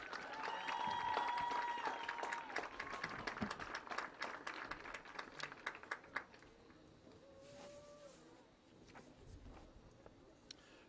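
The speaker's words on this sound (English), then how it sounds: "Ladies and gentlemen, please give a large round of applause" Crowd applause and cheering in the stands at a high school football game, loudest early and then tapering into scattered claps, with tonal whistle-like sounds near the start and again mid-way.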